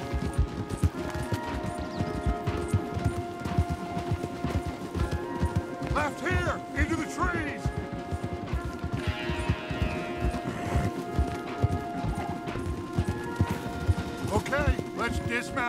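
Horses gallop hard in Red Dead Redemption 2, their rapid, rhythmic hoofbeats pounding steadily and close throughout, with a whinny and scattered game sounds and voices over the top.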